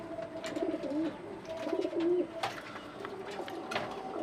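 Soft, repeated cooing of domestic pigeons kept as a hobby flock, several low rolling calls overlapping at close range, with faint rustling and chirps around them and no talking.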